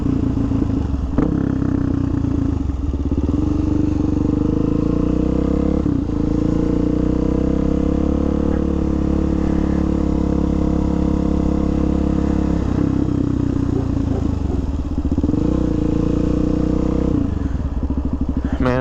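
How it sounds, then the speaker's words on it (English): A Suzuki DRZ dual-sport motorcycle fitted with a loud MRD aftermarket exhaust, riding with a steady, throaty engine drone throughout and a few brief throttle swells, close and loud. "if anybody's ever ridden a DRZ with an MRD, they know it's loud"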